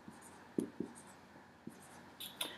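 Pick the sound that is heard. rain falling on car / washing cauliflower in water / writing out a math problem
writing out a math problem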